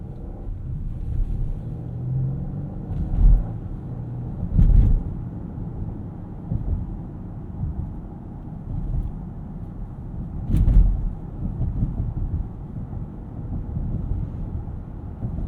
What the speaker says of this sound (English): That is a properly rough section of road, and we're just riding over it in silence